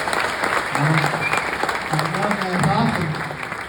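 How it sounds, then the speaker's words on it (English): A room of pastors at a regional conference gives a warm round of applause, dense steady clapping while someone speaks over it. "Have a nice round of applause for all those folks that made it 5 decades."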